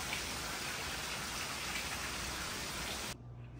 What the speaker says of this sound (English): It's raining and windy, that's for sure.